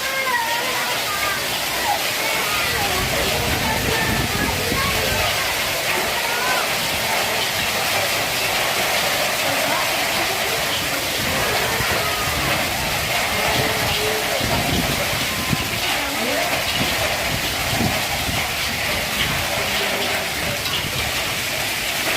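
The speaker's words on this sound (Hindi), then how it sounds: "बहुत तेज बारिश हो रही है," A dense, constant roar of heavy rain with hail fills the whole stretch, loud and close, with a voice speaking intermittently beneath the downpour.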